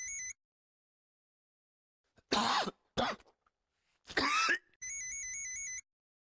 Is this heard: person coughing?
yes